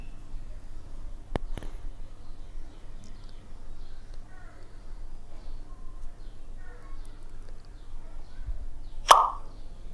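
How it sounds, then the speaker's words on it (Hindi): A single sharp pop, like a bottle being opened or hydrogen gas burning in a chemistry test, sounds near the end of a quiet stretch with faint background noise. "पॉप साउंड कैसा होता है, जैसे कि बोतल खोलते हैं तो जैसा आवाज़ आता है उसको बोलते हैं पॉप साउंड"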